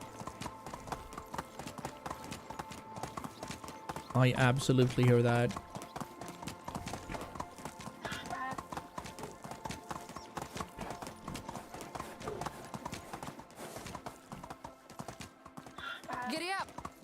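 Horse hooves clip-clop steadily in the video game Medieval Dynasty during a winter in-game year, with a brief louder burst midway, while someone talks over them almost throughout.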